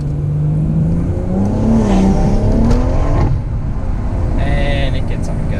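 BMW M140i accelerating hard, its engine note climbing in pitch through a rising run, loud and close, heard from inside the car over road noise.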